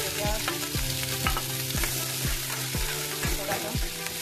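Chopped onions with cumin frying and being stirred in hot oil for a black chickpea curry, a steady sizzle broken by repeated scraping stirs of the spoon in the pan.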